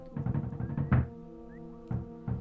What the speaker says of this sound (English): Somebody's about knocking at the door. What an annoying knock.